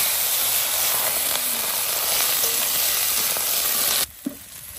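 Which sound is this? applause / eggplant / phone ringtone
eggplant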